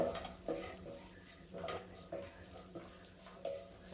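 A spoon scrapes and taps against a pan in a steady rhythm, roughly every half second, with a faint dry sizzle of coriander powder roasting underneath and no talking.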